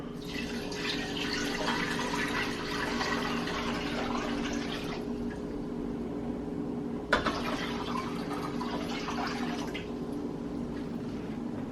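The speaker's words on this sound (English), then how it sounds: "We're going to add some cool water to the pot." Tap water runs steadily into a pot, a continuous splashing rush that pauses briefly with a clunk midway, then resumes filling.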